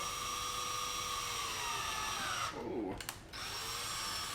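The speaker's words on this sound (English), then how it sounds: "I'm just going to take my drill here" A steady, high whining power drill with a 1/4 inch bit runs close by, its tone dipping briefly as the bit bites and catches before the whir resumes.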